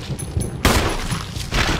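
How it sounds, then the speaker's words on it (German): Rapid gunfire aimed at a zombie in Resident Evil HD Remaster, a couple of loud sharp bursts with ringing decay, close and dominant with no talk. "Du musst natürlich auch in Richtung des Zombies schießen"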